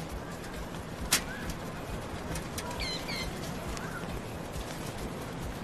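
A bird at an airport security checkpoint gives a few soft, faint coos against a steady background hum, with a sharp knock partway through.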